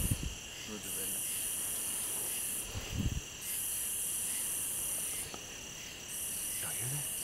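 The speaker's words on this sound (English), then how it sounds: "I hear crickets." Crickets chirp outdoors at night in a steady, high, pulsing trill that runs throughout, with a few faint rustles and soft low thumps underneath.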